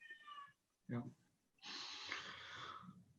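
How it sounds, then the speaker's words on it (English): A hungry cat meows indoors, with a short breathy snort-like sound early on and then a sustained, fairly loud meow lasting over a second, close to the microphone. "The cat's hungry."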